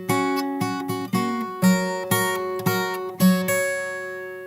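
A fingerstyle acoustic guitar plays a bar of a song. Plucked notes and chords ring out in an even, syncopated pattern of about six strong attacks, each decaying into sustained tones, with no talking.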